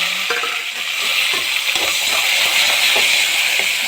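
Onions and green chilies sizzle and hiss steadily in hot oil with whole spices for black chickpea biryani, with soft stirring scrapes breaking through at close range.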